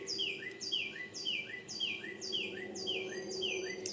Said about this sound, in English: As I'm hearing these birds out here chirping, that sounds better to me than hearing a bunch of bad news,